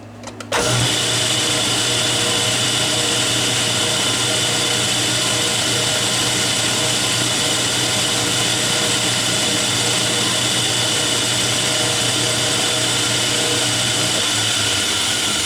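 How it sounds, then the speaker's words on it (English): A machine cuts a chamfer on a part for a vise with a loud, steady mechanical whir. It starts abruptly and then runs on continuously at an even pitch without pause. "Put a chamfer on it."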